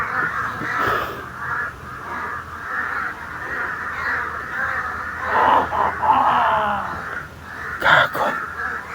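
A flock of crows caws repeatedly and raucously, many overlapping calls close by, with a loud burst of caws near the end and faint voices in the background.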